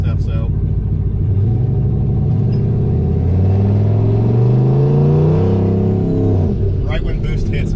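A turbocharged 4.8 truck engine pulling hard as boost builds, a low rumble that swells into a rising, climbing drone for several seconds before easing off, loud and close.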